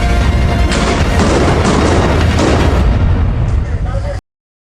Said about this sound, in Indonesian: Suasana riuh redam oleh tembakan gencar, menciptakan ketegangan ekstrem.